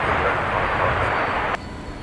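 A jet departing Brisbane Airport roars loud and close, a broad steady rumble that cuts off abruptly partway through, leaving quieter background noise.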